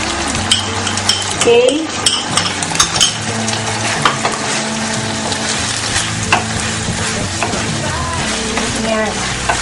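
Thinly sliced beef with starch stirred and frying in a pan, with steady sizzling and repeated scraping, clinking utensil strokes against the pan; a voice speaks briefly.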